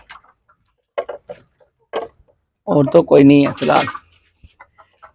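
Desi hens at a home backyard poultry farm clucking, one hen heading inside to lay an egg, a loud close burst of clucking after quiet pauses, with someone talking softly nearby.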